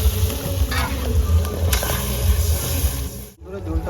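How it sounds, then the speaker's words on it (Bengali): Gravy for a fish curry bubbles and sizzles hard in a pan. The noise is loud and steady, with scraping stirs mixed in, and someone speaks briefly over it. "ঝোলটা আমার ফুটে গেছে"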